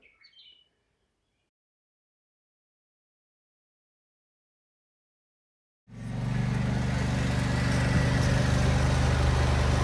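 A riding lawnmower engine starts up abruptly after a long silence and runs loud and steady with a constant low drone, close to the listener, and no one talks over it.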